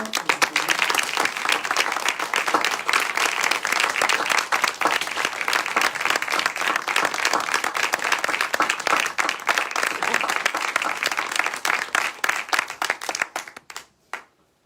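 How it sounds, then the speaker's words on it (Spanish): Dense, sustained applause from a sizable crowd at a poetry festival recital, steady for over twelve seconds before thinning out and stopping abruptly near the end. "festival de poesía. Un aplauso."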